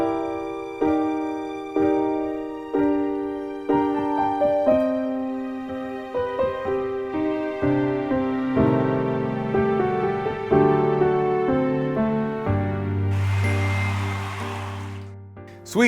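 Solo piano plays the intro to a song in an intermediate-level arrangement, with steady repeated chords building into fuller, louder passages and a low sustained ending, with no talking.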